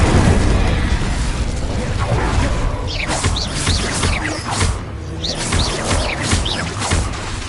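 Spells fire off in rapid succession during Hogwarts Legacy combat, including the Incendio fire spell, heard as loud rumbling bursts and whooshes with crackling blasts layered throughout the dense battle noise.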